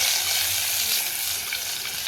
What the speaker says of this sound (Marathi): फोडणी केली आणि वांगे टाकले